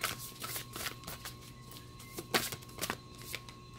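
Tarot cards being shuffled by hand during a reading, a close, quick run of crisp riffling and flicking bursts over a faint steady hum, with no talking.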